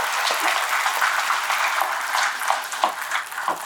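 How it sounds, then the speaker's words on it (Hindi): An audience at the JASHRANG National Theatre Festival in Jashpur gives sustained, dense applause that stays loud throughout, with a few sharper claps standing out. "उनके लिए भी एक बार जोरदार ताली।"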